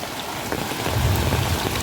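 Monsoon rainwater rushes along a village road, a loud, dense, continuous wash with a deeper churning swell toward the end, with no voices.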